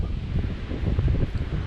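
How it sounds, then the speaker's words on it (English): Wind gusts on Springer Mountain, the southern end of the Appalachian Trail, rumbling low and buffeting the microphone in uneven bursts, close and moderately loud. "Very windy."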